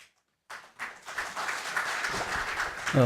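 A seminar audience on plasma technology gives a welcoming round of applause for a speaker, steady moderate clapping that begins after a short silence and builds, with a voice starting at the very end.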